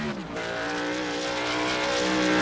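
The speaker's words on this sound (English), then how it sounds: "Oh, we got Mitch Abrahall sliding all over the track." A race truck sliding on a track produces sustained tire squeal layered over a loud, steady engine whine, close and building slightly over a couple of seconds, with no voices.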